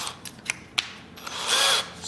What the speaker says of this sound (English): I'm gonna drill with 7 and finally with 10.